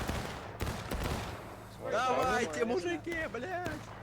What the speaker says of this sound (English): Keep firing, keep firing.